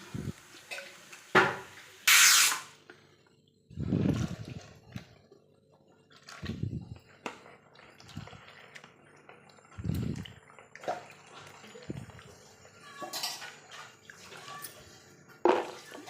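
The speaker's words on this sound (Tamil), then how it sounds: "இன்னொரு முறை கழுவுனா தான் அதில் உள்ள விதைகளை க்ளீனாக போயிடும்" Turkey berries being washed in a bowl of water, with intermittent sloshing and splashing bursts and dripping between them, close by and moderately loud, no talk.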